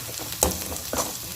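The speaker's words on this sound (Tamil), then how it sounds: "கருவேப்பிலை சேர்த்து நல்லா வதக்கிக்கலாம்" Curry leaves and green chillies being sautéed in a pan, a soft steady sizzle broken by two brief stirring scrapes, close and fairly quiet.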